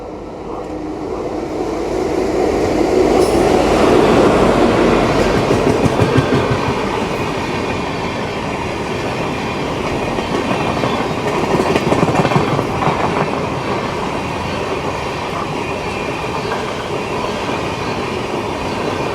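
A train rolls loudly past Ettimadai railway station on the Tamil Nadu–Kerala border, with a continuous roar and rapid clickety-clack of wheels that swells early and then holds steady.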